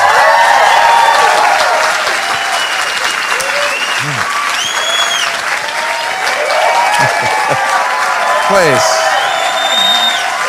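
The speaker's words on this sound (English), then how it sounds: "That was a great applause." Audience applause at a live comedy show, dense and loud clapping throughout with scattered whoops and cheers rising above it; a voice speaks briefly during the clapping.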